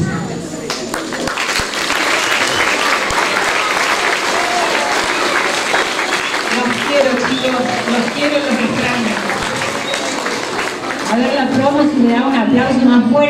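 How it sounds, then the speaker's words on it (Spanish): Loud, sustained audience applause at a retirement tribute, steady throughout while people talk and call out over the clapping. "Le da un aplauso más fuerte a la señora."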